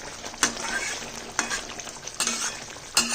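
Oil being stirred in a cooking pan for a mustard dish, giving a soft steady sizzle with several sharp scrapes of a spoon against the pan, heard close with no talk.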